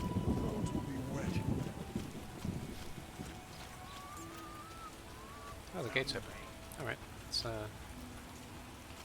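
Rain and thunder in The Witcher game, with a low rolling rumble at first and then a steady, soft patter of rain, quiet and in the background under someone talking.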